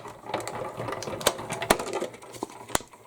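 A die-cutting machine running half-cut plates through, giving a steady mechanical whirring rumble broken by several sharp clicks and knocks, with no talking.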